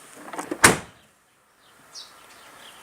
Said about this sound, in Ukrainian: закриваємо водійські двері